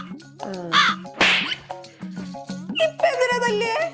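A crow caws in loud, repeated calls close by, with harsh broken notes over a steady low hum, and some thuds mixed in.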